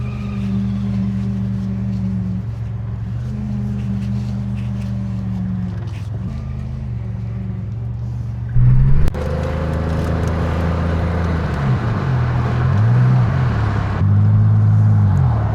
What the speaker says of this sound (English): Hey, the engine started.